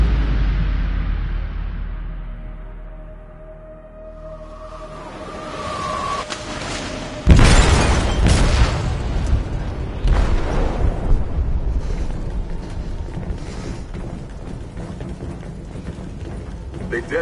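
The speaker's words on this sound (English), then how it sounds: "They detonated an explosive in the hold." A heavy explosive blast goes off inside a ship's hold in the video game Detroit. A loud, sudden boom is followed by rumbling, crashing debris and a second impact, with a long noisy roar trailing after it.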